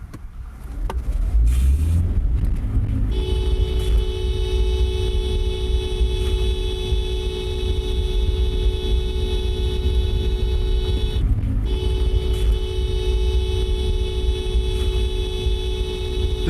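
A car horn heard from inside the moving car, held as a loud steady tone of constant pitch for several seconds over road and engine rumble, briefly broken and then resumed.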